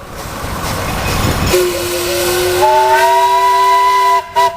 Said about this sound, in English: A long blast on the whistle